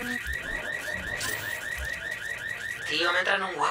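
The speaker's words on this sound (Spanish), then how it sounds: "Salto el alarma." An alarm blares in Watch Dogs 2, a steady pulsing electronic wail that repeats in quick even cycles, loud and continuous, with a burst of other game noise near the end.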